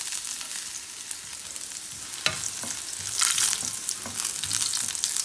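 Garlic goes into hot oil for a tomato chutney, setting off a steady, bright sizzle that swells louder partway through, with faint stirring knocks, close and without talk.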